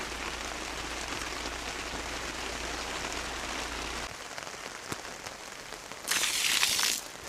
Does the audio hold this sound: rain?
yes